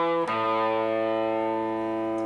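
An electric guitar plays the third measure of a song: one note is struck, then a chord rings out with a strong, slightly distorted sustain for about two seconds and fades slowly.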